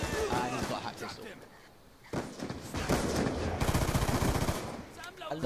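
Gunfire in the video game Call of Duty Black Ops 2, sharp shots crackling over a steady in-game soundscape while someone talks across most of it, with a brief lull near the middle.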